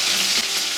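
Whole spices, onion and two dried chilies fry in hot oil, giving a loud, continuous close-up sizzle with no voices.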